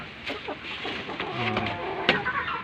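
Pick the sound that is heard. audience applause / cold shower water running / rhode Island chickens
rhode Island chickens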